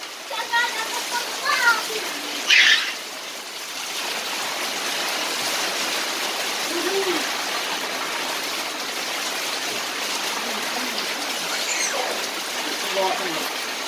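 Rainwater pours from a spout onto children, a steady rushing splash that fills the scene, while kids shout and chatter, loudest near the start.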